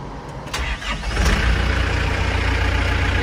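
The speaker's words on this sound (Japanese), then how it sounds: "じゃあエンジンをかけてみたいと思います" A Yanmar EG48 tractor engine with 679 hours cranks and catches, then settles into a steady, close, low idle with a regular chugging rhythm.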